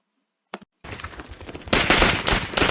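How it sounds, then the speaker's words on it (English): A brief click, then rattling gunfire from the opening scene of the film Dunkirk that builds into loud, dense bursts of rapid shots with no talking. "So this is the first round of gunshots."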